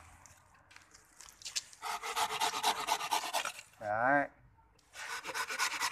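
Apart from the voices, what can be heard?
hand saw cutting roots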